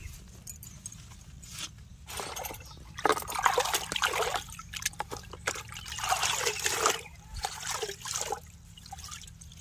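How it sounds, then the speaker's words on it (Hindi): Water splashing and trickling as radish and coriander are rinsed by hand, with irregular bursts of swishing and dribbling over a steady low background hum, fairly close and moderately loud. "यहाँ पर पानी से हम साफ कर लेते हैं मूली को भी और धनिया को भी"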